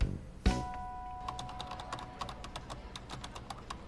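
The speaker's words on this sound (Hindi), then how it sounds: "अरे कीबोर्ड टूट जाएगा।" Hard, rapid typing on a computer keyboard: a cluster of sharp, forceful keystrokes follows one heavy knock, with no voices.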